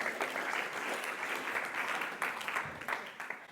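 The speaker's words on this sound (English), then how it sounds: "So a round of applause for the trust there." An audience claps together in a dense, steady patter of applause, moderately loud, lasting the whole stretch.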